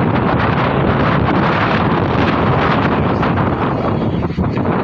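Strong gusty pre-storm wind under a cloudy sky roars and buffets the microphone without letup, a dense rushing noise close and loud throughout.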